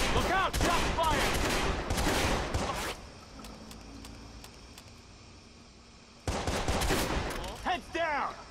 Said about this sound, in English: Look out, shot fired.